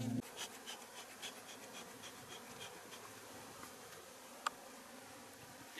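Honeybees buzzing around a hive after waking early from winter, a faint, steady insect hum at a distance with a few brief louder passes, and no talking.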